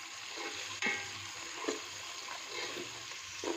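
Ginger garlic paste fries with onions in a pan, giving a soft steady sizzle broken by occasional stirring scrapes and clinks, fairly quiet with no talking.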